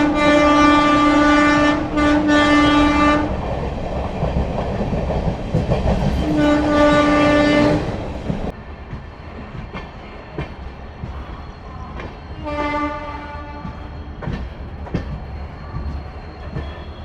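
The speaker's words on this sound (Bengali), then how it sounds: "আর দুর্গাপুর স্টেশনে থেকে বেরিয়ে গেল আমাদের ট্রেন" A passenger train pulls out of Durgapur station in India, its loud horn blaring in long sustained blasts early on, then again more briefly later, over steady rumbling and clattering of the carriages.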